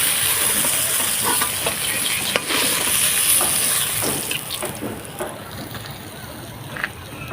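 Pangas fish frying in hot oil until deep red, a constant bright sizzle and crackle with occasional stirring clatter, close and fairly loud throughout.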